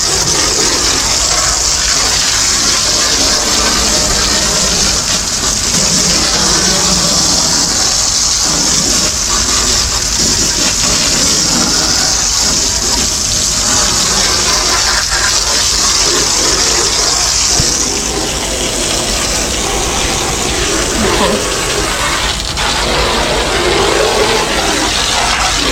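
Water spraying hard onto dirty floor mats taken out of a Yamaha FSH 255 boat: a loud, constant hiss and splash of hose spray that continues steadily for the whole stretch.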